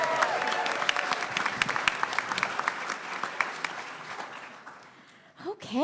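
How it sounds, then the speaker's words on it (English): A convention panel crowd at New York Comic Con claps for a Star Wars books panelist, sustained applause with distinct sharp claps that trails away, followed by brief speech. "One more round of applause for Mark."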